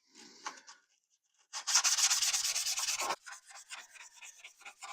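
Bondo body filler on a car being sanded by hand: a short, soft scrape, a pause, then a loud sustained run of rapid back-and-forth strokes followed by quieter, choppier rubbing passes.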